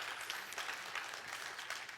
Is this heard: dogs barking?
no